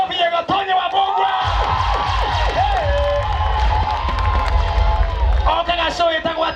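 Studio audience cheering and clapping for Gatonye wa Mbugua on Kameme TV, a loud steady crowd roar with scattered whoops and applause throughout, voices mixed in.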